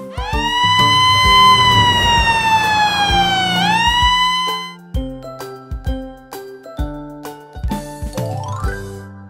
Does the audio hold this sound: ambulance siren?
yes